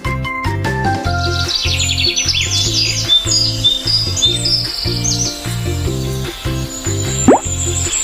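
Cartoon bird chirps and tweets flutter high above a steady, bouncy children's alphabet song backing track, repeated bright trills running through most of the clip with a brief upward slide near the end.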